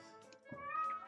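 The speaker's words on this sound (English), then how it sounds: "Oh no, cat!" A cat lets out two close, strained meows, the second rising into a drawn-out scream, heard alone in a quiet room.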